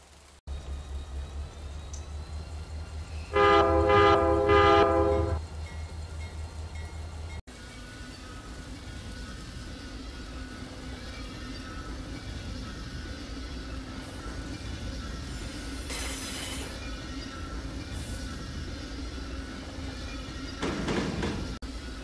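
In the Run8 Train Simulator video game, a freight train rumbles along with a steady low rolling drone; a loud tonal horn-like blast sounds briefly early on, then a softer continuous run with faint squeals.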